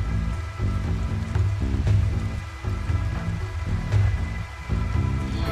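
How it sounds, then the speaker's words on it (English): Rain falling at night in the video game Rimworld, a steady close hiss of drops on surfaces with gentle swells in loudness, continuous throughout with no voices. "And it's raining, and it's dark."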